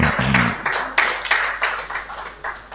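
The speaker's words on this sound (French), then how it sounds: "Sous vos applaudissements, mesdames et messieurs." Applause at a graduation ceremony for a master class diploma presentation, a scattered run of individual claps at moderate distance, with a brief voice at the start.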